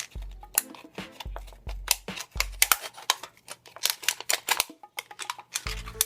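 Scissors cut around an aluminium soft drink can, sharp close metallic snips and crinkles in an irregular burst, with a few low thuds between cuts.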